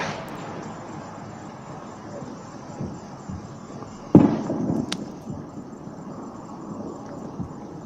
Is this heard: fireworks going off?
yes